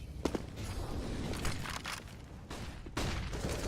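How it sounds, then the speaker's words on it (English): Rapid bursts of gunfire crackle through a competitive esports match on the Mirage map, mixed with scattered footsteps and game sounds at a steady, moderate level. "Taking his shots, but it's going to be Vanity underneath"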